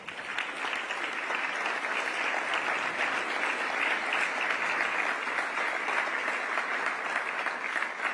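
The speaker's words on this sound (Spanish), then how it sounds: "un aplauso para el señor Santiago Bausili" A room of business people gives sustained applause for Santiago Bausili at an economics talk by Javier Milei, many hands clapping steadily for several seconds.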